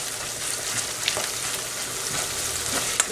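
Tomato paste frying in a pot for jollof rice, a steady close sizzle with soft bubbling and occasional light stirring scrapes, fairly loud and unbroken, without speech.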